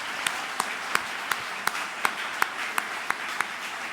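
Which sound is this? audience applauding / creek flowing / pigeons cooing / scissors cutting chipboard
audience applauding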